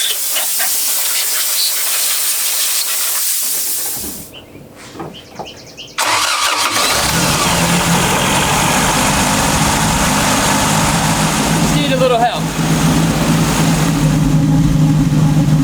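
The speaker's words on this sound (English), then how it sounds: "here's what the car sounds like" A carbureted car engine with a new ignition system cranks, cuts out briefly, then catches and settles into a steady, loud, slightly uneven, misfiring idle with a hissing layer on top.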